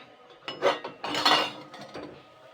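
A plate used as a lid is lifted off a pan of chitoi pitha, giving a few close metallic clinks and scrapes of crockery against cookware, in bursts over a couple of seconds with no speech.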